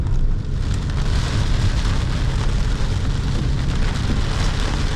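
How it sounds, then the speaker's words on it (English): Heavy rain pounds a car driving around a roundabout in Macau, a dense, steady, loud wash of drops with road and engine rumble beneath, unbroken throughout. "It's going to start raining really hard now."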